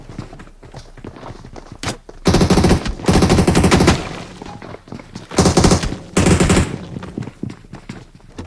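Automatic weapon fire in the mobile battle-royale game PUBG Mobile: several loud, close bursts of rapid shots, separated by quieter stretches of faint in-game footsteps and ambience.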